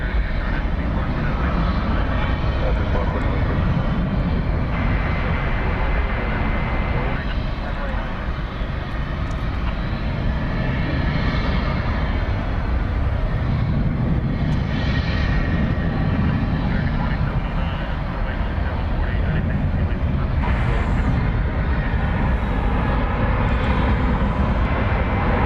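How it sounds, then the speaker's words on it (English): An Airbus A321 airliner rolls down runway 18L at DFW Airport, its jet engines a loud, continuous broadband roar lasting throughout, with someone talking over it. "Flight 1536 to Sacramento is rolling down 118 left. It's an Airbus A321."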